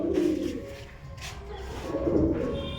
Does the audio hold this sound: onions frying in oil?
no